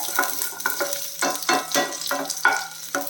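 Mustard seeds splutter in hot oil in a Tamil kitchen, a close run of sharp pops and short crackling bursts coming every half second or so over a quiet background.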